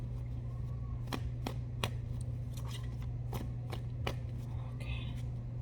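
Tarot cards shuffled during a weekly fire-sign reading, soft crisp flicks and taps repeating irregularly over a steady low hum, close by and fairly quiet.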